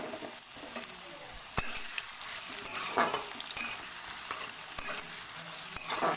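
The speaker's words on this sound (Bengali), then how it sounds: "আলুটা একটু ভাজা ভাজা করবো, খুব বেশি ভাজা ভাজা করবো না" Potatoes lightly frying in hot oil with hing and whole spices for Bengali cholar dal, a steady close sizzle with occasional sharp clinks and scrapes of a spatula against the pan.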